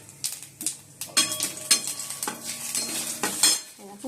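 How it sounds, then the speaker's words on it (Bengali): Nigella seeds tempering in a small amount of hot oil in a pan for a fish curry, close crackling and sizzling with repeated metallic clinks of a utensil against the pan, no voices. "কালো জিরে ফোড়ন দিয়ে দিলাম।"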